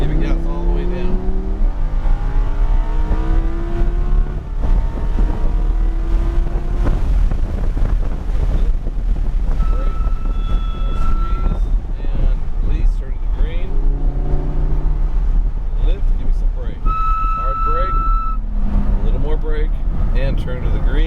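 A dream car accelerating on a race track, with a constant engine drone and heavy wind buffeting, and rising and falling engine pitches sweeping up through the gears, loud and close, under talk from people in the car.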